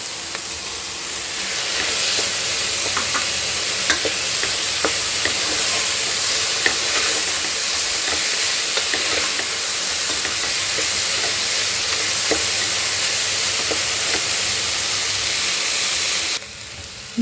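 Vegetables for gobi rice frying in a pan, a loud, steady close sizzle and hiss with scattered stirring clicks and scrapes running throughout before cutting off near the end.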